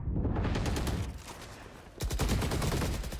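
Rapid, dense gunfire rattles continuously in a VALORANT esports match, with a brief dip before another loud burst of automatic shots.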